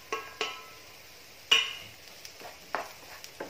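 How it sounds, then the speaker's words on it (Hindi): Onions and raw mango cooking in a pan, with quiet, scattered scrapes and clinks of stirring over a faint sizzle, several separate strokes a second or so apart. "थोड़ा सा और भून लूंगी।"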